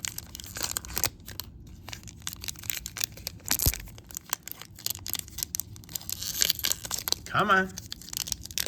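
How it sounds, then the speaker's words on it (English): A trading card pack being torn open by hand with rough crinkling and tearing of the wrapper, close up, in short bursts under a man's brief spoken words. "Pack a little bit rough to open."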